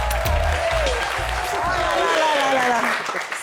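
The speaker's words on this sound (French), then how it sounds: "Applaudissez pour moi, applaudissez pour moi, applaudissez pour moi." A studio audience at a live evening talk show applauds steadily, with crowd noise and voices mixed over the clapping.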